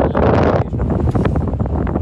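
Strong wind at a lakeside campsite roars as continuous, heavy buffeting across the microphone, loud and close, with gusts swelling and easing throughout and no voices over it.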